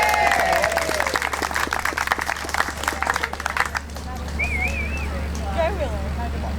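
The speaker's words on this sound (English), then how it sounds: "Give Willow a round of applause." Applause and clapping for a young girl named Willow at an outdoor freedom rally in Forster/Tuncurry, a dense burst of crowd clapping with voices over it that fades out midway, leaving quieter background sounds.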